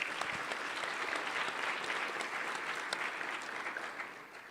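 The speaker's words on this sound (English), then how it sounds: "If we can give them a round of applause." A legislative House chamber audience gives a steady, full round of applause for guests, dense clapping that holds for several seconds and then starts to taper off.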